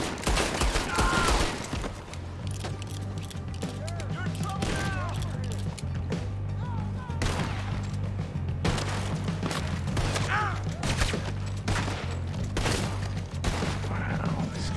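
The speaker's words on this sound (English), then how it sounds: "Guys still are shooting." Gunfire in Red Dead Redemption 2: repeated shots and volleys crackling over a steady low in-game drone, with someone talking at times between the shots.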